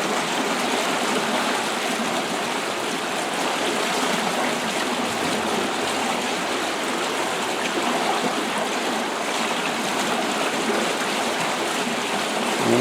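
Water rushes under a raised lock sluice gate at Iden Lock on the River Rother, a loud, steady, broadband roar heard close up with no voices.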